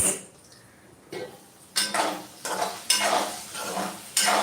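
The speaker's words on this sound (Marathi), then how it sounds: "आपला जो बटाटा आहे तो आवाज देतोय आपल्याला ते पाहूया" Potatoes frying in a pan for sabudana khichdi, a sizzle broken by repeated scraping stirs that come in regular bursts about every half second to second, close and fairly loud, with no talking.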